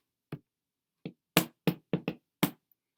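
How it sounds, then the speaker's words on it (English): Knocking at a door: seven sharp knuckle raps spaced irregularly, clear and close with silence between them. "there was a knock at the door"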